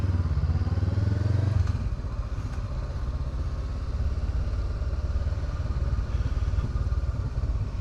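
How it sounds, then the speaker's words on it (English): A Honda Africa Twin motorcycle engine runs steadily at close range, a loud continuous low rumble that lifts briefly near the start, with a few light clatters over it and no talk. "It does sound good, this bike."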